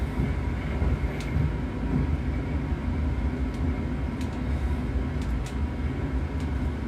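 Steady wide-bodied jet rumble of a PMDG 777-300ER's engines winding at reverse idle during the landing roll in a flight simulator, a continuous low drone with faint clicks above, no talk.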